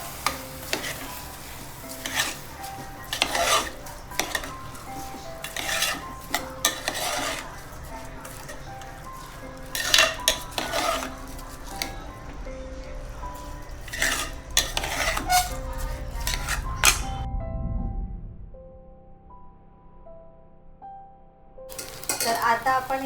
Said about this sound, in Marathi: आता छान चारी बाजूनी तो परतून घ्यायचा आहे.